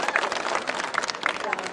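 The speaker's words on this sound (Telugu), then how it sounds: "గట్టిగా చప్పట్లు కొట్టారు." Crowd applause at a municipal election campaign rally in Station Ghanpur, a steady broadband clatter of clapping that lasts the whole moment, mixed with a loudspeaker voice talking over it.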